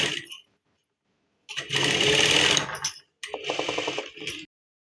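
A sewing machine runs rough stitching across a pant pocket in two bursts, a long run then a shorter one with a distinct rapid needle rhythm, close and loud with pauses of quiet between.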